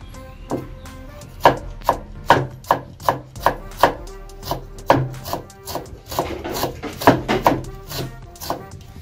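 Ginger being chopped on a wooden board as seasoning for duck marinade, a close series of sharp knife strikes in uneven bursts, with faint voices briefly underneath.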